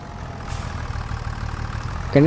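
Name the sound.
tractor engine idling in video game Farming Simulator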